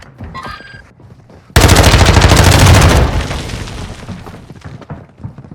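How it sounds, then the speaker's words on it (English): Gunfire in the video game Call of Duty DMZ: a sudden, loud burst of rapid automatic fire lasting about a second and a half, then a rumbling decay under quieter game ambience. "You are taking effective fire."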